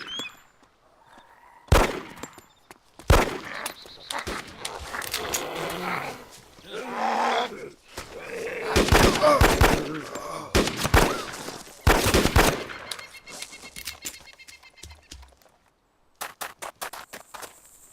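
Sharp gunshots ring out across an airfield in the DayZ Mod game, several loud isolated cracks and bursts spread across the stretch, with a brief pause before a final shot.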